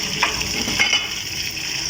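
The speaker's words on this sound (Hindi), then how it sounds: "थोड़ा सा ज़ीरा और थोड़ी सी काली मिर्चें साबुत वाली वो हम इसमें ऐड करेंगे और हम इनका तड़का लगाएंगे" Whole red chillies, cumin seeds and black peppercorns sizzle and crackle in hot oil for a tempering, a steady close frying hiss with a few sharper pops, no voices.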